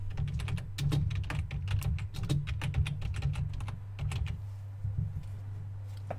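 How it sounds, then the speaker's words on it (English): Fingers tap quickly on a computer keyboard, close and crisp in irregular bursts over a steady low hum, pausing briefly before a few final keystrokes. "we're going to type in Golden State Warriors"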